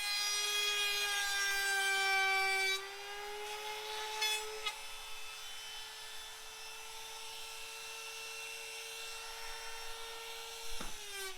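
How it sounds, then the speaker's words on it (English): A jigsaw cuts out a wooden step panel for a motorhome engine cover, a steady high buzzing whine that shifts pitch and load partway through, heard close with no speech. "I got to just finish cutting these out with the jigsaw"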